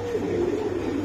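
Pigeons cooing close by, a low soft throaty warble lasting about a second.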